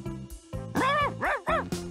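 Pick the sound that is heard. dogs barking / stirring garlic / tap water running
dogs barking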